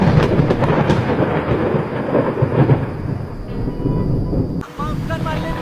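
A thunderstorm rumbles loud and close, a steady roar of heavy rumbling and rain-like noise that drops out briefly near the end, then resumes.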